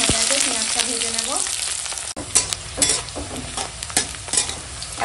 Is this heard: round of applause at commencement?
no